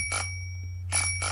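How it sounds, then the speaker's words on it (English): A toy train's bell rings in two bursts, a short ring then a longer double ring after a pause, clear and close over a steady low hum. "He rang his bell and waited."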